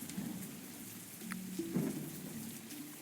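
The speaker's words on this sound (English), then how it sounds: "The lightning struck directly into this tree." Rain falls steadily in a video game storm while a lightning strike cracks and low thunder rumbles beneath, a brief sharp burst rising over the constant hiss.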